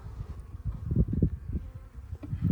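Honey bees buzzing during a spring top bar beehive inspection, a dense, close, continuous drone with fluctuating intensity and no talking.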